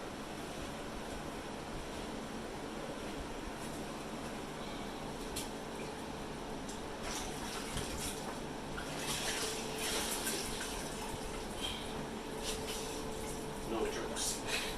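A wet sponge wipes across grouted tile, giving a steady, close, soft swishing rub with brief scrubbing surges near the end.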